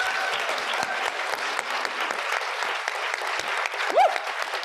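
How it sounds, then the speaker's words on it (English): An audience applauds honorees at a League of Women Voters event, dense sustained clapping from a full room with a brief whoop rising near the end. "Can we give them all another round of applause,"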